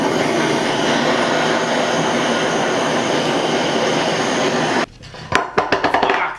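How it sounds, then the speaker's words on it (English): A handheld blowtorch roars steadily and loudly for nearly five seconds while pumpkin salad with shrimps is cooked, then cuts out abruptly, followed by a few sharp clicks and short bursts. "It's time to get the blower out."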